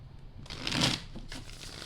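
Tarot cards shuffled by hand, a soft, brief riffling rustle that swells and fades in a quiet room.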